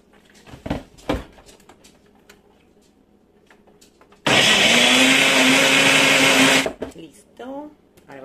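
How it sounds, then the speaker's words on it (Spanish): Blender whirring loudly for about two and a half seconds as it purees beetroot with a little water, preceded by a couple of knocks and followed by a short rattle, with someone talking nearby. "Acá vamos a licuar primero la remolacha."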